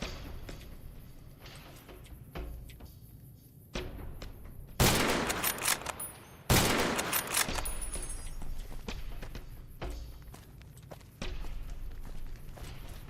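Gun firing in modded Fallout: New Vegas, two loud, close bursts of shots standing out against quieter footsteps and scattered game thuds.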